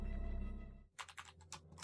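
Rapid keyboard typing in the Jujutsu Kaisen Cursed Clash video game, a quick run of crisp clicks after a low tonal hum cuts off, faint and close.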